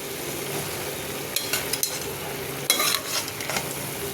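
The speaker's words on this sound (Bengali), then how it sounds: "আমার ভালো করে সটে করে করা হয়ে গেছে" Malabar spinach (pui shak) with shrimp being sautéed in a pan, a steady low sizzle with a few sharp stirring scrapes and clinks of a utensil partway through, close and moderately loud with no talking.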